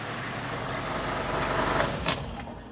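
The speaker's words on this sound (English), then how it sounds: "It's unmistakably a London taxi cab." London taxi cab engine running in a car collection garage, a steady close diesel rumble that swells slightly with a short sharp clack near the end.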